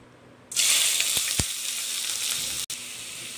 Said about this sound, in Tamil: வெங்காயம் போட்டு தாளிக்கலாம்